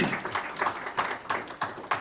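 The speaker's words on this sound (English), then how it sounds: "Let's have a round of applause for that." A small group at a school board of education meeting gives a brief round of applause, with uneven claps landing in quick bursts at close range.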